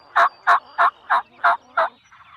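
Wild turkeys gobble in spring, six quick, evenly spaced rattling calls in a row, fairly close and clear against a quiet outdoor background.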